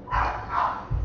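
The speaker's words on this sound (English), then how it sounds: "I've got my dogs going literally psycho upstairs" Dogs bark a few times from another room upstairs, muffled and moderately loud, two short outbursts close together with no talking.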